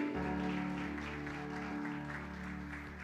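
A church congregation claps together in sustained applause during a service, filling a large room, with musical tones and murmuring underneath.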